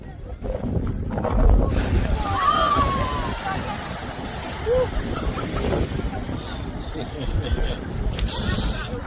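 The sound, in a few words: geyser erupting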